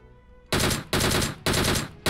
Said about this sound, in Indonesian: Gak ada yang kena nih tembakan gue.